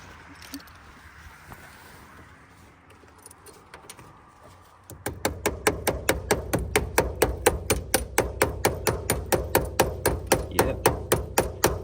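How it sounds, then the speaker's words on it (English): After some quiet shuffling, a hammer strikes a part on a Mazda SA22 rotary engine again and again, about thirty sharp metallic blows in a fast, steady rhythm, close and loud. "Close enough now that I can hit it with a hammer."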